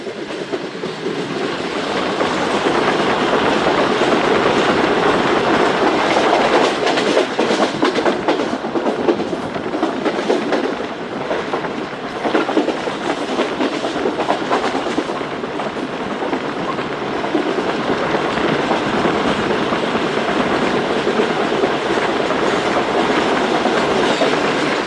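A locomotive shunts a freight load of fertiliser wagons along a railway line leading to a station, a loud, steady rumble with clickety-clack wheel beats rolling past close by for the whole stretch, no voices.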